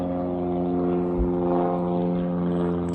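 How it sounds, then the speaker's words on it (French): A small propeller airplane passes over a campsite in the afternoon, a steady, droning hum that stays loud and even for the whole stretch. "Petit avion"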